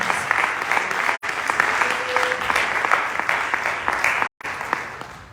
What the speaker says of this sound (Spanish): Dele esa ofrenda de palmas.